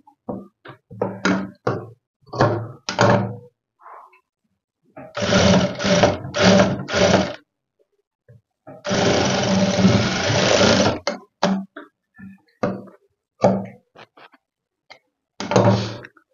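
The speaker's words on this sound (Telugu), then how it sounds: "ఇప్పుడు దీనికి పై కుట్టేద్దాం" A sewing machine stitches a blouse hook-and-eye patti in short whirring bursts separated by pauses, with one longer run of stitching and a few quick taps between runs.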